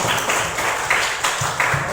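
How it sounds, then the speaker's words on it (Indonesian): Students clapping together in a classroom, a brief burst of applause that keeps up a fairly even, busy patter of many hands from start to finish. "Tepuk tangan dulu untuk kalian semua yang hadir."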